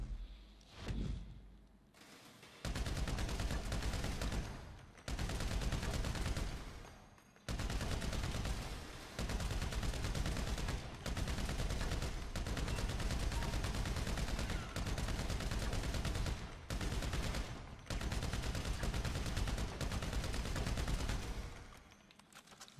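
A heavy gun fires in GTA V in long sustained bursts, loud and close, each roaring volley running several seconds with short pauses between, almost no talk.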